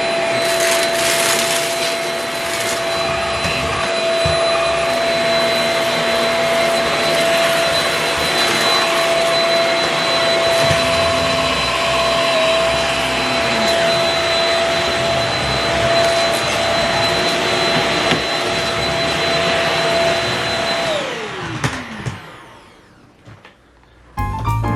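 A Shark Rocket Ultra Light stick vacuum sucks kibble from carpet, its loud, steady high-pitched whine running close for about twenty seconds before the motor winds down and cuts off.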